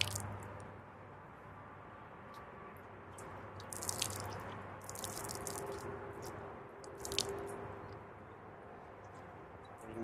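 A soaked car wash mitt, used to wash a 2019 Mustang GT, is wrung out by hand, giving soft squishing and a few splashy drips in bursts over a steady low background hum.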